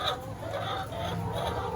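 Hens cluck and murmur steadily over a constant farm background hum, several birds close by with no pauses.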